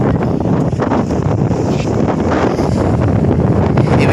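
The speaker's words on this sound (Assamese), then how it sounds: "কি ধুনীয়া বতাহ মাৰি আছে, কিমান চেঁচা" Strong sea wind at Digha beach buffets the microphone in a loud, continuous roar, with a faint wash of surf underneath and no voices.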